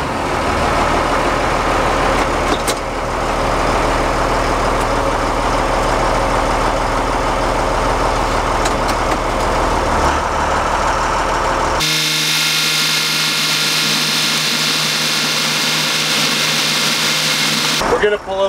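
A Freightliner MT45 Snap-On truck's diesel engine idles close by in a steady, heavy low rumble, then cuts to a quieter cab-like drone near the end; a voice talks over parts of it.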